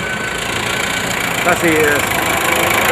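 A tractor engine running steadily on a Tunisian farm, a constant mechanical drone with a brief higher tonal sweep midway, while someone speaks French over it.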